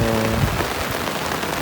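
Steady rain pattering at a beach campsite with a hammock and tarp shelter, a dense close wash of drops heard without any talk.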